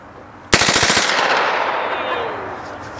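A rapid burst from an MP5 submachine gun at a Class 3 dealer demonstration, about eight close, loud shots in quick succession, then a long echoing decay.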